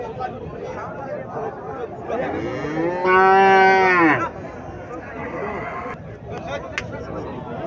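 A cow moos loudly and close by at a busy livestock market where Sahiwal cattle are being sold, one long lowing call rising over a constant background of crowd chatter.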